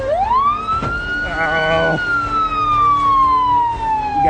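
Ambulance siren in the Project Zomboid video game, a loud continuous wail that rises and then slowly falls, with a brief burst of game noise midway and a short exclamation from a man.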